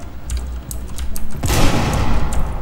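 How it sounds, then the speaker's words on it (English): A grenade explosion in Rainbow Six Siege, a few sharp cracks followed by a loud, sustained burst of noise, close and prominent with no talking. "Careful, grenade in!"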